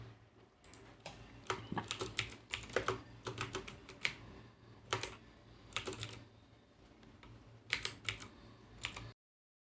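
Steady typing on a computer keyboard during graphic design work, with irregular bursts of fairly close key clicks separated by short pauses, quiet overall, no talking.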